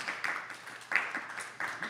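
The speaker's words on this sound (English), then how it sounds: "Give yourself a round of applause." Light clapping from a small group in a class or lecture setting, with scattered individual claps rather than a full roar, fairly quiet and brief.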